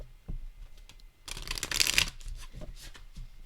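A large, shiny gilded tarot deck being shuffled, with a burst of fast, crisp riffling card flutter in the middle, set between quieter handling taps and rustles.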